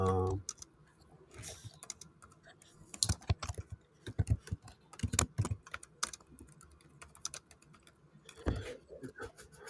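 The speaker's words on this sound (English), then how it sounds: "typing at the same time" Typing on a computer keyboard comes in irregular bursts of sharp key clicks, close and fairly loud, with short pauses in between.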